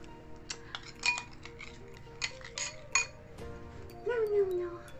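Rice water and milk stirred in a glass container, with bright clinks and taps of a utensil against the glass in an irregular series, fairly close, ending in a short scraping swirl.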